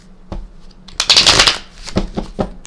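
Tarot cards being shuffled by hand for a Celtic cross reading, close and crisp, with a few soft taps before a loud riffling burst and then scattered slaps of cards settling.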